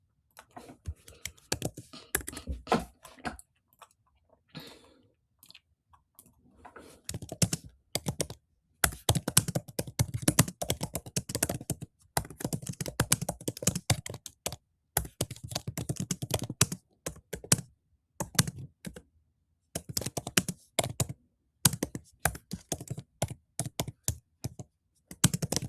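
Someone types on a computer keyboard in fast bursts of close, crisp key clicks separated by short pauses, with a few quiet words in between.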